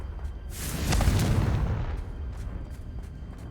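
A Confringo blasting spell goes off in Hogwarts Legacy, one loud booming explosion that swells and rumbles for about a second before settling into a low, fading tail with faint crackles.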